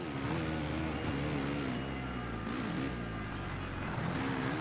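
Motocross bike engine in the MXGP video game on PS4, a continuous buzzing whine that rises and falls in pitch as the throttle changes, loud and steady with no pauses.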